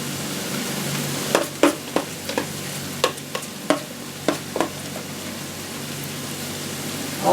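Bell peppers and onions frying in oil in a pan, a steady soft sizzle with a handful of sharp clicks and scrapes from stirring, close and without talk.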